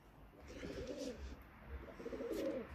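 Tippler pigeons coo softly in two low, rolling bursts, one near the start and one near the end, with no talk over them.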